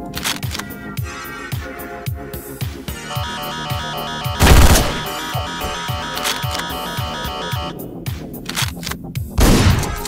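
Rapid machine gun fire in the top-down game Hotline Miami, rattling continuously over loud electronic music with a couple of heavier impact bursts, no talk.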